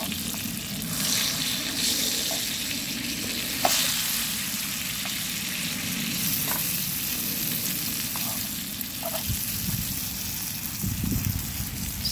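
Dried danggit fish fries in oil on a small portable stove: a continuous close sizzle and crackle with occasional sharp pops and light clicks.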